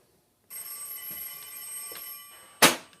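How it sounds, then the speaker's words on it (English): A telephone rings once with a sustained electronic trill at moderate distance in a machine shop, then a sharp knock cuts in as it ends. "And the phone's ringing"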